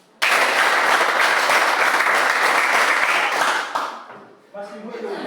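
A roomful of participants at an Indonesian differentiated-learning workshop gives a sustained round of loud, close applause for several seconds. It tapers off, and a voice begins talking.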